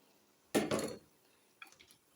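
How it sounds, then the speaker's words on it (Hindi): Soaked rice is tipped into a pot of boiling water for beef yakhni pulao, giving one short wet splashing pour, followed after a pause by a few faint clinks. "तो चावल जो भिगो के रखे थे वो ऐड करेंगे"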